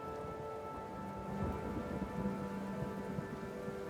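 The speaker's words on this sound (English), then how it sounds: "the rain continues to pour around us" Heavy rain pours down steadily and close by, a dense continuous wash of drops with low thunder-like rumbles rolling underneath and no voices.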